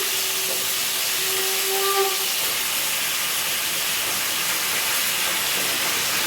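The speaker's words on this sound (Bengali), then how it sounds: "এদিকে আমি সবজিটাও ভেজে নেব" Vegetables frying in a pan, a steady broad sizzling hiss that holds evenly throughout, with faint tonal whines briefly rising beneath it.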